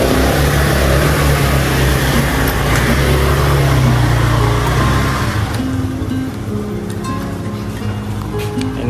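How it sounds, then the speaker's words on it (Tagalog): Many motorcycles run close by outside a dorm, their engines forming a loud, dense, continuous drone that thins slightly toward the end. "Ang daming motor dito."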